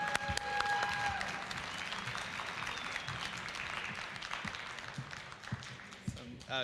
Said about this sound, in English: let's give a big round of applause for Ryan Young